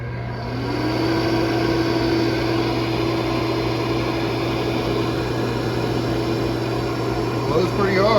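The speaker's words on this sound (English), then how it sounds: "here's a test run of the blower" A shop-made blower for a DIY heat treat oven spins up and runs steadily, a loud continuous whir with a low hum and rising pitch in the first second, then holding even throughout.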